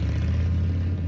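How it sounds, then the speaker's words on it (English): A popular American motorcycle engine runs with a steady, deep, throaty rumble close by, loud and unbroken for about a second with no talking over it. "This is the sound of a popular American motorcycle."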